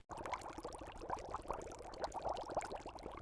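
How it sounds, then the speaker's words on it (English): A pot of water comes to a boil for cooking broccoli florets, giving a dense, bubbling churn of rapid pops and gurgles that is close, steady and fairly quiet, with no talking. "Bring a pot of water to a boil, add broccoli florets and cook for 1 to 2 minutes."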